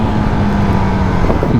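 A 2024 Honda CB300F motorcycle pulls hard in third gear on the road, its engine a loud, steady close-up growl with wind noise over the short stretch.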